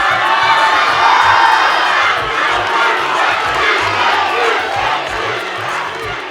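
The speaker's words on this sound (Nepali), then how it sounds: "सदिक्षा र यसै गरी विशालको लागि बराबरै हुटिङ आइरहेको छ" Studio audience loudly cheering, whooping and hooting for two contestants at a televised singing competition's battle round, a dense continuous roar of many voices, close and sustained throughout.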